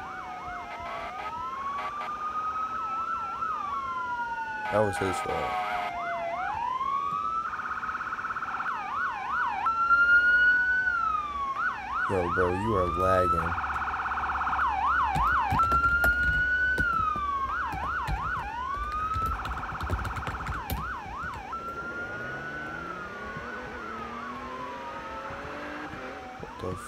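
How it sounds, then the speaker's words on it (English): Wailing and yelping fire truck sirens in a Pennsylvania State Roleplay game sweep up and down continuously, with engine rumble and brief crashes; a couple of people talk briefly over it. "And there goes a fire truck."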